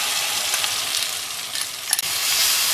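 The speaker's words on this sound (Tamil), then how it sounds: "இதை நல்லா கிளறிட்டே இருக்கணுங்க." Ground rice batter for uppu urundai is stirred in a hot pan, giving a steady close sizzle with soft scraping and one brief clink near the end.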